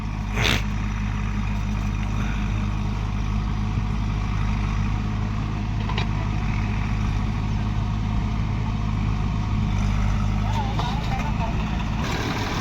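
An 855 tractor engine runs in a steady, loud low rumble while soil is loaded during village clean-up work, with faint voices in the background.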